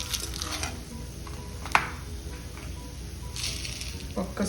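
Coriander seeds roasting with dried red chillies in a little oil, a continuous light sizzle with scraping stir strokes and a sharp clink partway through, close and moderately loud.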